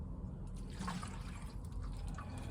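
Compost in fennel seed trays is watered, a soft close trickle and patter of water falling onto the moist surface, quiet and continuous with faint drips.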